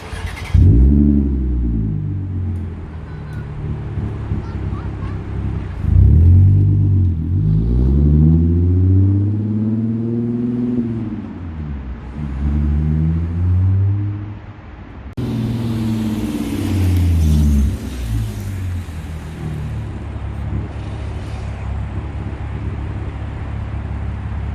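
A supercharged 3.0T 2011 Audi S4 B8 Quattro drives on a test run after a clutch slave cylinder replacement, its engine rising and falling through several loud, close revs and gear changes with a steady rumbling drone throughout.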